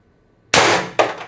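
A Beeman BP50 air pistol firing a single shot with a 4g pellet, one sharp loud crack followed half a second later by a second metallic impact, otherwise quiet.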